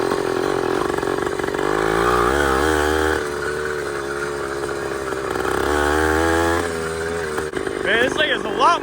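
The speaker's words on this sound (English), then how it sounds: "It'll accelerate much faster now and probably rev a little bit higher." Ported Razor 2-stroke dirt bike engine with advanced ignition timing revving hard, a loud buzzing whine rising and falling through several throttle blips, close by, with someone talking briefly at the end.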